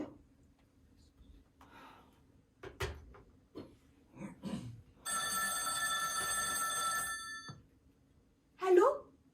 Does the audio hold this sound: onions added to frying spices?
no